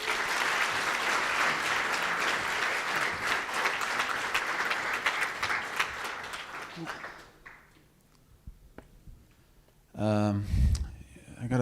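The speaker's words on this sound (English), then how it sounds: "a big round of applause for Peter." A conference audience at React Norway 2025 gives a big round of applause, loud dense clapping that lasts about seven seconds, fades to quiet, and is followed by someone speaking.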